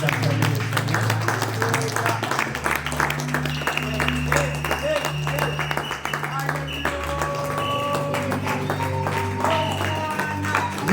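A church congregation at an ordination and foot-washing service claps steadily and enthusiastically, the applause blended with organ or keyboard music and voices.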